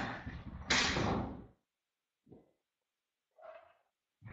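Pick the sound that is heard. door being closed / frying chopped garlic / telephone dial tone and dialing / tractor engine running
door being closed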